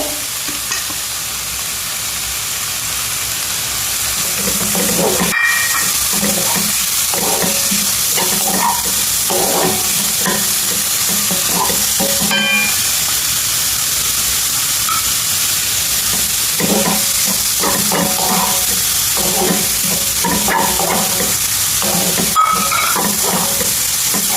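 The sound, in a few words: cabbage frying and being stirred in a pan for soup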